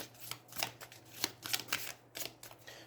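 A deck of cards for the Aeons End board game is riffled and shuffled close up, quick crisp bursts of card flutter repeating in a busy rhythm over a faint hum.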